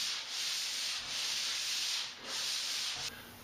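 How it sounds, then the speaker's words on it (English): Sanding dried drywall joint compound over a taped butt joint, three long, close, hissing rubbing strokes with short pauses between, the last ending abruptly. "sand off the rough spots and you're good"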